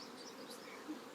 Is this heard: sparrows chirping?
no